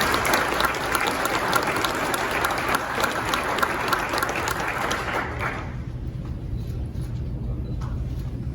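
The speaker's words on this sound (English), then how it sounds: "A round of applause for Detective McCoy." Applause at a county sheriff's department promotion and awards ceremony, a dense sustained clapping from an indoor audience that holds steady for several seconds, then cuts off sharply, leaving quiet room tone.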